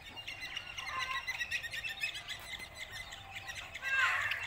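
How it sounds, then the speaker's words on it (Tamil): Birds call and chirp steadily in a quick, busy run of bright notes close by, near a bush where a venomous snake lies. The calls may come from a crow, and they grow louder toward the end. "இத பாருங்க இந்த காக்கா தூக்க பாக்குது"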